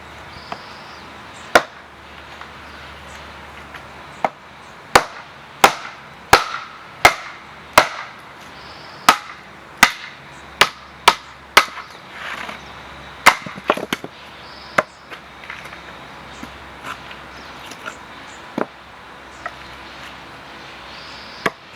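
An 18-inch Tramontina machete chops into wood with the grain, giving about fifteen sharp, close, loud chops at an uneven pace, sometimes in quick bunches and sometimes spaced out, with no talking.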